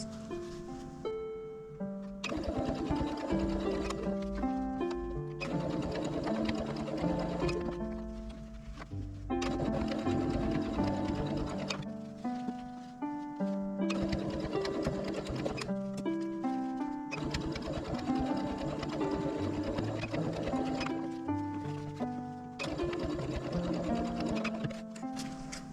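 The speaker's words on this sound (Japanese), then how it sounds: "ここ端ミシンかけます。" A sewing machine runs close and steady, stitching the edge of a small fabric box made from leftover cloth, in several long runs of rapid rhythmic needle clatter with brief pauses between them.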